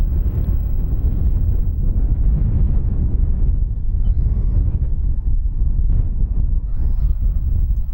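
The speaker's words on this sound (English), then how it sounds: "A very strong wind still gusting" Strong gusting wind buffeting the microphone out in the Little Karoo, a loud, continuous low roar that surges and dips throughout.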